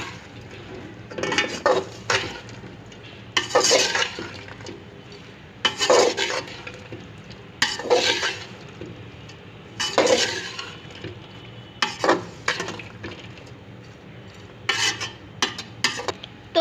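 Capsicum and carrot being stirred in a pan for chicken vegetable spaghetti, with bursts of scraping and clinking from a spoon against the metal every couple of seconds over a low sizzle.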